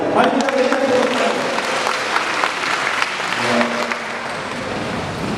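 Seminar audience at a parish family event breaking into applause, a full burst of clapping that swells then thins, with a voice briefly audible near the end.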